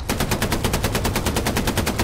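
Loud, close machine-gun fire rattles in a rapid, steady stream of evenly spaced shots in the video game Hell Let Loose, with no pause and no voices.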